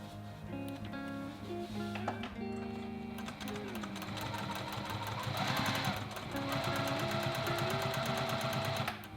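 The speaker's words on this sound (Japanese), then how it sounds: "10オンスのデニムの6枚重ねを縫ってみます。" A sewing machine stitches through six layers of 10 oz denim, its motor whirring in a steady fast buzz of needle strokes that grows louder and harder partway through.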